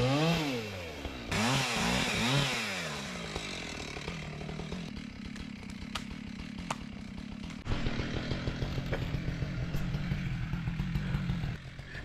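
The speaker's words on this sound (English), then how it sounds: "he is really good at the chainsaw, very experienced at felling trees, and he's offered to take these down for us" A chainsaw felling trees along a roadside revs and bogs repeatedly, its throaty buzzing engine rising and falling through cuts, moderately distant and sustained throughout.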